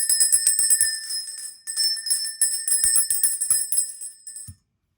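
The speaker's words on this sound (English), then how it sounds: "Oh, let's do the bell." A small bell rung before a tarot reading rings brightly and shimmers with fast, steady strokes, stops briefly, then resumes. It is loud and close, and the ringing ends abruptly.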